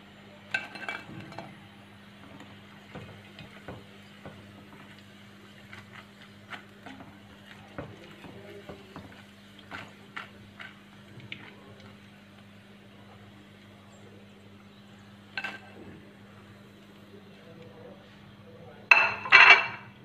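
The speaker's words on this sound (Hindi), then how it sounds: "अब इसको एक डिश में निकाल लेना है" Fried crispy potato snacks are lifted out into a serving dish. Faint scattered clinks and light scrapes sit over a low steady hum, with a louder clatter of dishware near the end.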